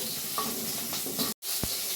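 Sugar dropped into hot oil in a pan sizzles with a steady, close hiss, stirring scrapes scattered through it and a brief dropout near the end.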